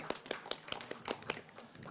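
Scattered audience clapping for a silver award book at a book awards event, a brief thin round of individual claps, light and uneven.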